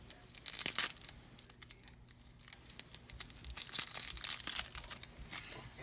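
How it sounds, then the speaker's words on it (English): Papery outer skin of a red onion peeled away by hand, soft crinkling and tearing rustles coming in two bursts with a short pause between, close and fairly quiet. "I peel the outer layer."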